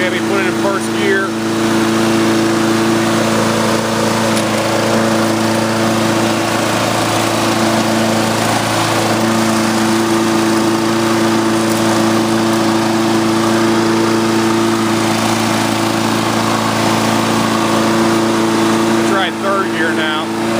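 A Scotts riding lawn mower engine runs steadily in gear, a loud continuous drone with strong low harmonic bands held for the whole stretch, close to the listener.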